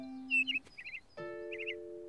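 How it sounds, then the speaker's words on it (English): A cartoon bird in the countryside calls in short, bright chirpy bursts, two clusters of quick trills over a sustained tonal music bed, close and clear with no talking. "That sounds like a bird."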